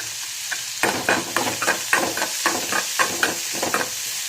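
Onions sautéing lightly in a pan for a horse gram sundal, a soft steady sizzle broken by repeated scraping stirs of a spatula, close and alone with no talk.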